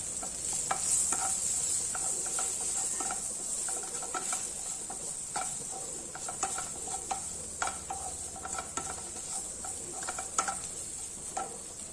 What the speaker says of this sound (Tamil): தக்காளி நல்லா வதங்கிட்டு பாருங்க நம்ம இந்த ஸ்டேஜில் சிம் பண்ணிவிட்டு இந்த குழம்பு மிளகாய் தூக்கிட்டு பாருங்க அதை சேர்த்துறேன்